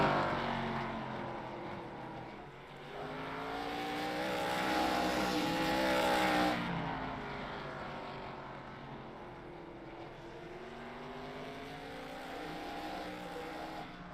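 Race cars in a sim racing game lap the short oval of Hickory Motor Speedway during practice, engines droning and rising in pitch as they pass, one swelling louder midway before fading into a steady whine.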